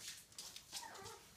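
Five-week-old British Labrador puppies let out soft, faint whimpers and little yips, a few brief high cries close by over quiet background noise.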